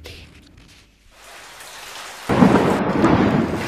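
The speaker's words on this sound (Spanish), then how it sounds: "Si lloviese allá en San Juan como llueve acá en Santiago, sería un paraíso." A thunderstorm with heavy rain in Santiago: a low rumble of thunder builds, then dense, loud rain pours steadily over it, with no voices.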